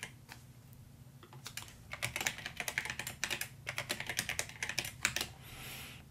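Rapid, close clicking of a computer keyboard as a username and password are typed, in uneven bursts of keystrokes with brief pauses.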